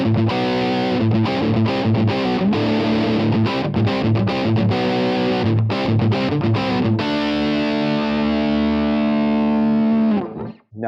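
Enya Inspire carbon fiber guitar with the bright cap on, played with ghost notes: loud, choppy strummed chords broken by short muted gaps for about seven seconds, then one sustained chord ringing out and fading before a sudden stop.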